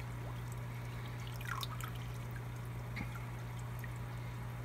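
Water drips and trickles softly as something is rinsed, with a few small splashes over a steady low hum.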